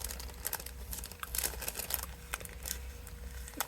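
Vintage children's Return of the Jedi scissors cut through plastic toy packaging, with a steady run of small crinkling, snipping and tearing noises at close range and moderate volume.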